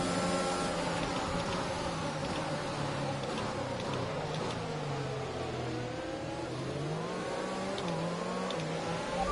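A racing video game's race car engine, driven at the Azerbaijan circuit with gearbox wear, revs steadily and loudly throughout, its pitch rising and falling as the car accelerates and shifts.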